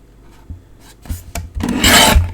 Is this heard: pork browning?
no